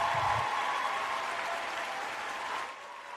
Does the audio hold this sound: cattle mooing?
no